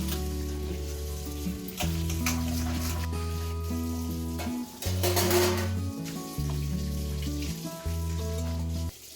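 Dishes washed under a running kitchen tap in a home kitchen at night, a steady close hiss of water with intermittent clatter of utensils and pans, plus a humming tone shifting in steps underneath.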